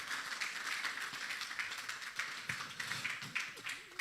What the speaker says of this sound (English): Please help me put a round of applause to all our